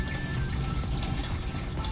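Water draining from an aquarium down into an under-tank sump, a steady close gurgling and splashing flow running evenly throughout.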